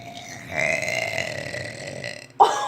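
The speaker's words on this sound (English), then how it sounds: "Nobody's ever seen a kid burp like this kid has like some kind of talent." A child lets out a long, drawn-out burp with a rough, croaking tone, followed by a short sharp burst at the end, close and fairly loud.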